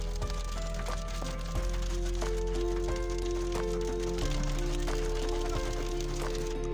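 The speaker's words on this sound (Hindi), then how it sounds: "ये बहुत तेज़ होगी बारिश" Heavy rain in Islamabad drums steadily on a stopped car, a dense, loud, continuous wash with scattered sharper drop hits and a faint low hum underneath, with no talk.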